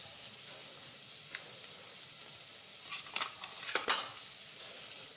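A chickpea and potato dish stirred in a pan on the stove, with a steady soft sizzle and a few scattered scrapes and clinks of the spoon, the loudest about two-thirds of the way through.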